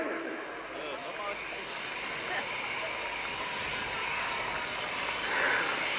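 A jet aircraft, a Polish F-16 at an airshow, rumbles as a broad, sustained roar of moderate loudness, swelling slightly toward the end, heard from a distance.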